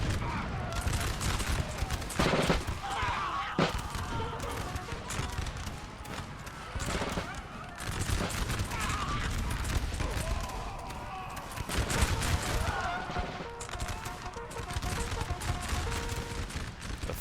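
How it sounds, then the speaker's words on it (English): Musket volleys from French troops crackle across a Napoleon: Total War battlefield, a rolling, uneven fusillade of distant shots with thuds, continuing steadily throughout at moderate volume beneath the battle ambience. "The French are firing, but the Prussians aren't firing back"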